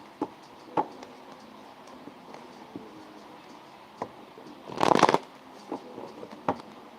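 Tarot cards being shuffled by hand, giving scattered soft ticks and taps that build to one dense riffling burst near the middle, then more sparse clicks, close and fairly quiet with no talking.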